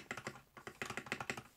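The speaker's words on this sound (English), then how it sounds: "This space bar is super clean." The space bar of a stock, unmodded XVX M61 mechanical keyboard is pressed about ten times in a quick, steady rhythm, each press a crisp, close clack with no talking.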